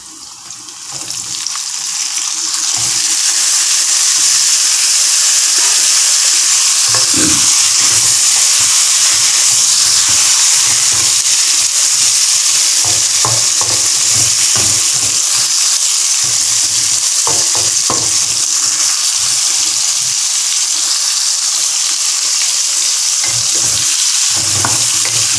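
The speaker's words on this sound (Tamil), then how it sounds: "கத்திரிக்காய் எண்ணெயில் கொஞ்சம் வதக்கணும்." Eggplant sautés in hot oil in a pan with a loud, continuous sizzle, broken by occasional scraping stirs and clatters throughout.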